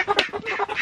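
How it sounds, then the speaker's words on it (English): Chickens, including young hens not yet laying, give a run of short clucking calls in quick succession, close by and fairly loud, with no talk over them. "And these chickens have not been laying any eggs yet."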